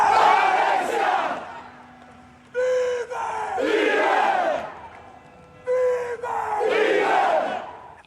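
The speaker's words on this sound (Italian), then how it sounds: "Alessia vive, è il coro dei tifosi del Palermo che hanno accompagnato la piccola verso il suo ultimo viaggio." Palermo football supporters chanting together at a child's funeral, a loud massed chorus repeated in rising waves, each phrase opened by a sustained sung note and separated by brief lulls.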